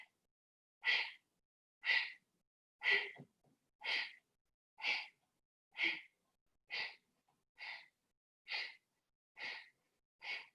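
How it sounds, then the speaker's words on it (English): Rapid Kapalabhati yoga breathing during a flow session, eleven sharp forceful nasal exhalations in an even rhythm about one per second, close and alone against silence. "We're going to do one more round of Kapalabhati"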